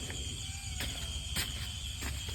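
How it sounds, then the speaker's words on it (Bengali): Night crickets trill steadily beside a village kitchen, a constant high buzz broken by a few brief sharper bursts, fairly faint and unaccompanied by speech. "দেখেছো আওয়াজ পাচ্ছ কিরম ঝিঝি ডাকছে"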